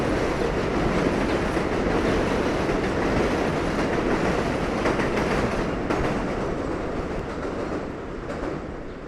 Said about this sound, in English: Here's a nice view of the 7 train making its way to Main Street.